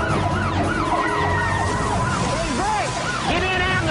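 A wailing emergency siren sweeps up and down continuously during a police chase after a fleeing truck, layered over steady engine and road noise.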